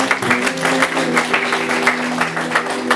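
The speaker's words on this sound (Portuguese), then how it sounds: "Você pode mandar uma salva de palmas a Jesus?" Congregation at a prophetic immersion church event clapping in a steady, rhythmic round of applause, with music or a held tone sustained underneath.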